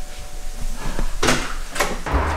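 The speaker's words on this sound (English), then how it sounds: "Go and answer the door then" Guests arrive at a front door: a few close knocks and thumps of the door, a rattle, and a final bump, with room noise and no speech.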